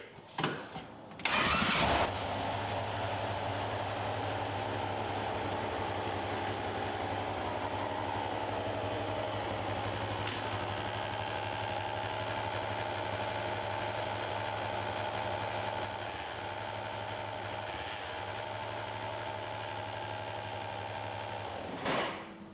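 A 2015 Polaris RZR XP 1000 UTV engine, a salvage-yard rebuild, cranks and catches, then settles into a steady, close rumbling idle that drops slightly in pitch toward the end before a brief click.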